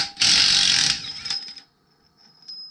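A power tool, likely an impact wrench, zips loose the axle nut on a Honda Grom motorcycle wheel with one loud burst of just under a second, then a few lighter clanks and faint handling noises.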